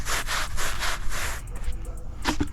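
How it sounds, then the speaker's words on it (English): A curved tire brush scrubs car floor mats in quick, rhythmic back-and-forth strokes, loud and close, then breaks off into scattered lighter scrapes. "the more time I spend scrubbing these mats, the better off they're going to be"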